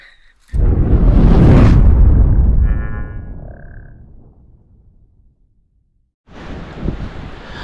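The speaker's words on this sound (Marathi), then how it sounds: "आवाज येतोय का माहित नाही वारा आहे जामच" Strong wind gusts buffet the microphone at the seashore during rod fishing, a loud rushing roar that fades out, falls silent for a moment, then returns in a second blast.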